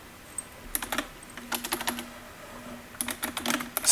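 Quick bursts of keystrokes clatter on a computer keyboard in short irregular runs, separated by brief pauses, close and crisp.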